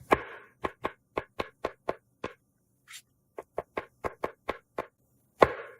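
Large mushrooms being sliced with a knife on a board, a run of about fifteen sharp, evenly paced chops, close and clear in a quiet room.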